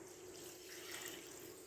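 Water poured into a pot of chicken biryani with chicken and potatoes, a soft, steady trickling splash that runs for under two seconds, faint and continuous with no talk over it.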